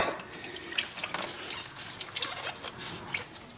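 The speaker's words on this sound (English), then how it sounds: "Oh yeah, dripping diesel everywhere." Diesel drips steadily from the opened fuel separator of a Kioti CK2610 tractor, a rapid patter of small liquid drops and splashes, close and fairly soft, with no talk.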